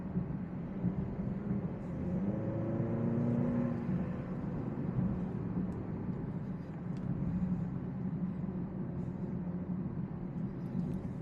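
A 2024 Alfa Romeo Stelvio Ti on the move, heard as a steady low engine and road drone from inside the cabin, swelling slightly for a few seconds before settling back to an even hum.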